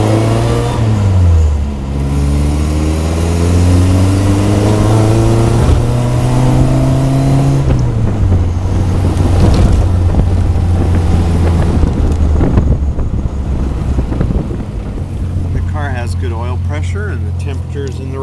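A 1960 Bugeye Sprite out on the road, its small engine revving up and changing gears in clear rising sweeps, loud and close with wind buffeting the microphone the whole way.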